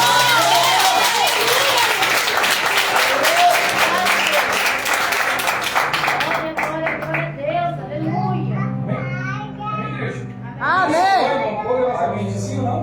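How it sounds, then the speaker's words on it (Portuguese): Church congregation clapping hands for Jesus, dense loud applause for about six seconds that then gives way to voices talking over fading claps. "bata palmas para Jesus."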